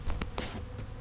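Honeybees on orientation flights around backyard hives make a close, steady buzzing hum, with individual bees zipping past in brief louder swells.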